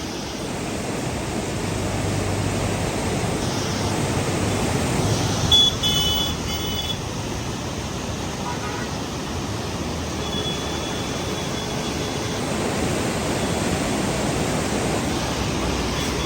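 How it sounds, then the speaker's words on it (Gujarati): The Harnav river near Khedbrahma runs full from bank to bank, a loud, constant rushing roar of floodwater that holds steady for the whole stretch with no voices. "અને હરનાવ નદી અત્યારે બંને કાંઠે વહી રહી છે।"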